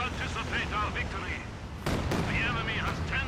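Rocket artillery and gunfire in a Company of Heroes 2 World War II battle, heard as a dense, loud wash of blasts and rumble with sharper bursts midway, under talk throughout.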